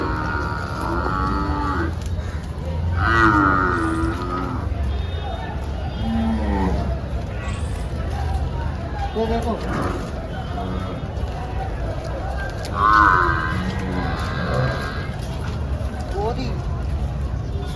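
Gir cows moo repeatedly at a cattle market in Dhule, several calls rising over steady crowd chatter and people talking nearby.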